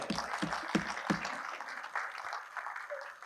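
An audience at a Kannada book event applauds, opening with a few sharp, distinct claps that blend into a softer, steady patter of clapping.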